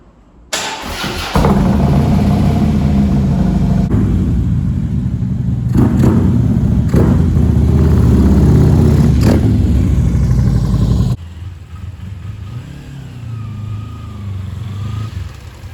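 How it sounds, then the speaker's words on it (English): A 2016 Harley Davidson Street Glide Special fires up from cold: starter whir, then the V-twin catches into a loud, deep rumbling idle with a few blips, settling to a quieter lumpy idle near the end. "This is a cold startup on a 2016 Harley Davidson Street Glide Special."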